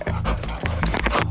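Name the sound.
detector dog panting at airport customs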